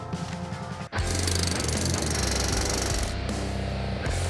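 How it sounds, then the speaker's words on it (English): A hydraulic hammer fixing railroad rails in place on an Arctic railroad in Canada gives a loud, steady mechanical pounding that starts after a brief pause and continues without talk. "He's using the hydraulic hammer."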